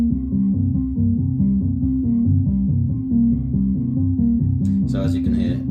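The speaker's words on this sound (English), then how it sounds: "if you play it in the bass, it makes a very big, powerful sound," Heavy synthesizer sequence in the bass register, a big powerful pulsing bass line looping steadily and loud, with a brief brighter burst of higher sound near the end.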